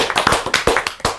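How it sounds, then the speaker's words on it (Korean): A congregation at a youth worship service claps together in a quick run of sharp, closely spaced hand claps, near and fairly loud, with no speech over it. "우리 박수로"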